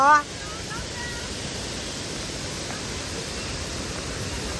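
Steady broadband rushing of a monsoon waterfall at Malshej Ghat, continuous and fairly loud, with a brief voice at the very start.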